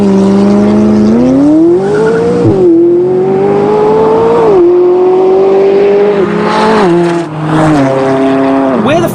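A 2016 McLaren 570GT supercar engine pulls hard and loud, its tone climbing through the revs with several gear shifts dropping the pitch, close and continuous, while a voice talks over it.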